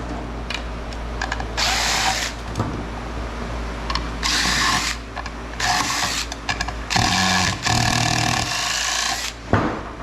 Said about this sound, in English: We get a nut driver.